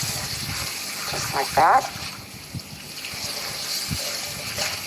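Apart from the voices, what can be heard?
rinsing a skillet with running water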